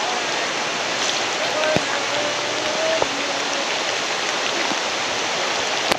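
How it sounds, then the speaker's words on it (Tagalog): Rain patters steadily beside a river in the countryside, a dense continuous hiss of drops mixed with flowing water, broken by a few faint knocks and brief tonal sounds. "Ayan, umuulan na."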